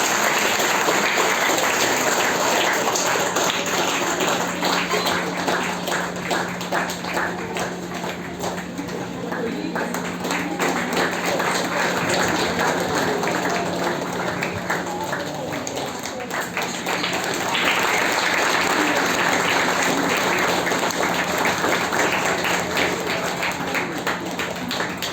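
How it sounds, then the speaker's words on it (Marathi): Loud, sustained applause from an audience at a Marathi lecture event, dense rapid clapping that continues for the whole stretch with slight swells, a faint hum underneath. "जोरदार टाळ्या झाला पाहिजे."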